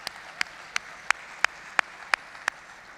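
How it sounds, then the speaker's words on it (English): An audience applauds at a high school sports awards ceremony, a steady wash of clapping with one sharp clap repeating at an even pace close to the microphone. "let's give them one more round of applause"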